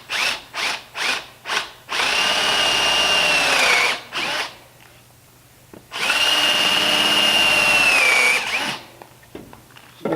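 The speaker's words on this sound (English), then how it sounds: "I just happen to have a 1/2 inch countersink here. And countersink these." A power drill with a 1/2 inch countersink bit whines as it cuts into a wooden boat plank. Several short trigger bursts come first, then two long, steady grinding runs with a brief pause between them. The sound is loud and close, and no one speaks.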